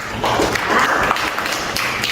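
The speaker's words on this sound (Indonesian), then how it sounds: "betul sekali, tepuk tangan dong" A classroom of students claps together in a brief, dense burst of hand claps, steady and fairly loud throughout, with no one speaking.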